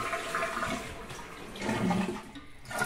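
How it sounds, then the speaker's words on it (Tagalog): A toilet tank flushes and drains, a continuous rushing and gurgling of water that swells and fades over a few seconds, fairly quiet and heard alone in a small room. "ubusin natin yung tubig ng tank."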